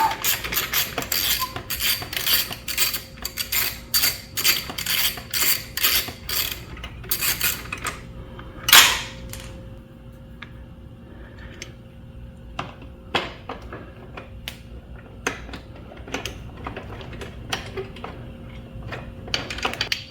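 Metallic ratcheting clicks and rapid mechanical ticking from a wrench working two 12mm frame bolts loose during an engine bumper guard installation, busy at first, then sparser clicks after a brief clank.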